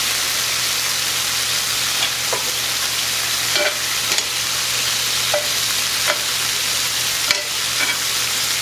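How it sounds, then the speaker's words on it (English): Beef sears in a hot molcajete pan, its broad steady sizzle crackling with rendering beef fat, with a few sharper pops and spits rising over the constant frying hiss and no talking. "I'm gonna sear my beef really good because I have a lot of the little, the beef fat"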